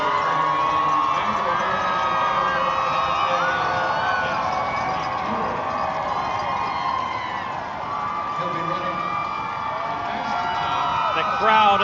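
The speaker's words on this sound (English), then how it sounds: "Crowd and the noise beginning to envelop" A large crowd roars steadily at the Boston Marathon 2025 finish line as 28-year-old John Korir takes his final strides, with broadcast commentary running over the continuous cheering.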